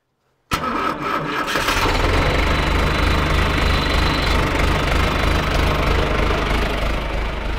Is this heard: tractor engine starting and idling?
yes